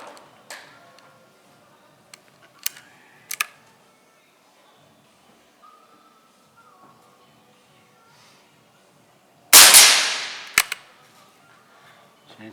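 Air rifle fired at a target with pellets while testing a Nikko Stirling Hornet 10-50x60 scope, giving several sharp, separate cracks spread over a quiet stretch, with one much louder, longer report near the end.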